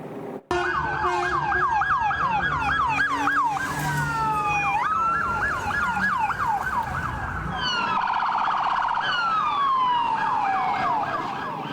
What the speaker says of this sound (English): the police and ambulances racing those injured officers out of a dangerous situation